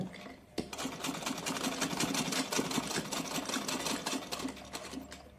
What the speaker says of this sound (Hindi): फिर यहाँ से हम शुरू करेंगे हल्की से किनार पे ही सिलाई, इस तरह से